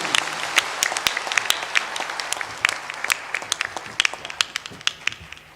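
Applause from a crowd gathered for a spiritual discourse by a saint, with dense sharp claps running steadily throughout, close and fairly loud, with scattered louder individual claps near the end.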